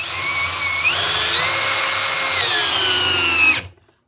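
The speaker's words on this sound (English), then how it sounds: "I'd much rather have a drill like this than have a compact" A Metabo power drill runs steadily at high speed, a loud, close whine that holds level for several seconds before cutting off abruptly.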